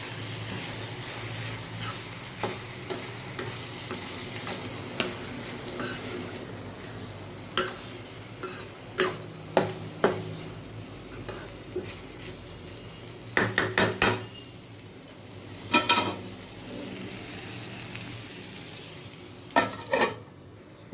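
Beetroot curry with turmeric stirred in a pan as it fries: a spoon scrapes and knocks against the metal in scattered clinks and taps, close and fairly quiet over a low steady background, with no talking.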